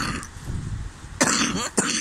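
Several dry, close coughs from a person outdoors, one at the start, then a harsh burst and a final cough after a brief pause, heard alone without talk.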